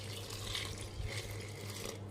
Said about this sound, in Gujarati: પાણી નાખી જવાનું